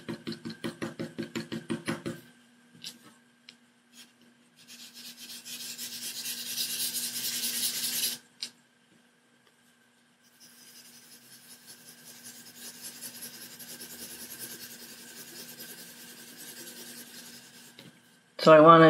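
Charcoal scrubs and rasps across paper in layered strokes, building toward darker tones; rubbing comes in several bursts separated by short pauses, close and moderately loud, with no talking.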